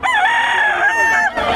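A stag rooster crows at a market in one long, loud cock-a-doodle-doo lasting over a second, with a brief dip near the end.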